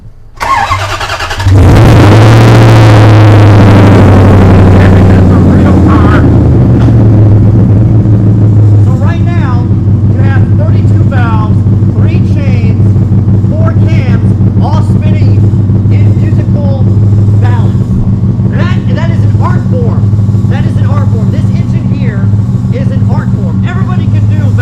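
A high-performance car engine cranks and catches, then runs loudly and steadily at a strong idle for the rest of the stretch, with a voice talking over the close, constant rumble.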